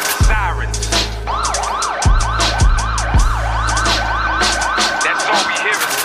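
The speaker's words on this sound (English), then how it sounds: "Whether it's ambulance or the cops, that's all we really hear on my block." Ambulance and police sirens wailing on a city street, a rising-falling yelp sweeping repeatedly while deep horn blasts and low vehicle rumble punch through, loud and close throughout.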